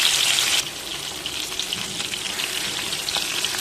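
Stuffed eggplants fry in hot oil, starting with a loud bright hiss that drops abruptly into a softer, steady sizzle with scattered pops, close and continuous with no voices.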